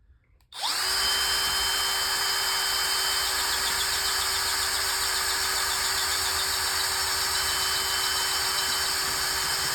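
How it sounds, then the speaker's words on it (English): A power drill bores through hardwood while a four-wheel moving dolly is being repaired. It starts after a brief quiet moment, then holds a loud, steady, high motor whine for the rest of the clip, close by. "I'm having problems drilling through it."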